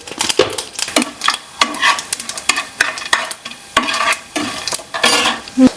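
Mustard seeds, dried chillies and chana dal fry in oil in a pan, heard as loud clattering stirs and scrapes in uneven bursts over a light sizzle.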